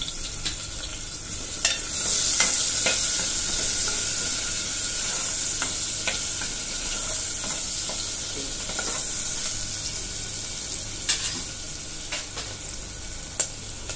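Small onions fry in hot oil and ghee for Kolhapuri tambda rassa and pulao, giving a steady close sizzle with occasional stirring clicks throughout and no talking.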